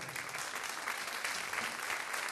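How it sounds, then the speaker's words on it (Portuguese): Dense, continuous clapping from a crowd at a folk music show with concertinas and bagpipe players in Minho, a bright steady roar of applause throughout the short stretch with no pauses. "Palmas para ele!"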